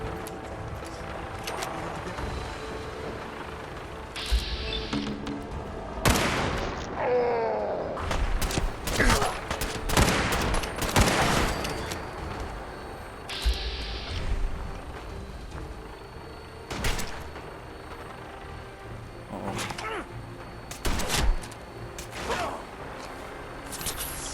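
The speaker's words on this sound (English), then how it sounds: "Stop firing grenades at me" Grenades go off in Fallout 4 combat, a series of sharp bursts and blasts spread irregularly across the stretch, some loud and close, mixed with mechanical clanks and gunfire-like cracks.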